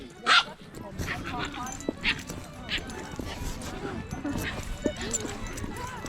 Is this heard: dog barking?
yes